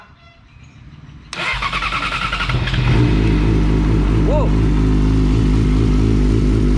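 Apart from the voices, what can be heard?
four-cylinder motorcycle engine starting and revving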